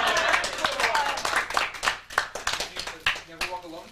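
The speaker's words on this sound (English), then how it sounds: "But I think you've applauded loud enough" A live audience at a one-woman stage show claps in uneven, scattered bursts that rise and fall, with a voice speaking over the applause throughout.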